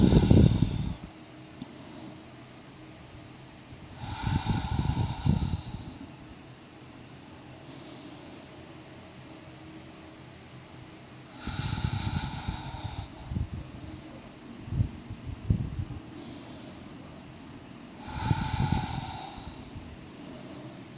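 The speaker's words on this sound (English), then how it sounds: "Breathing in. Breathing out." Deep breathing during yoga practice comes as slow, loud nasal inhales and exhales at regular intervals, close to the microphone over a steady fan-like hum.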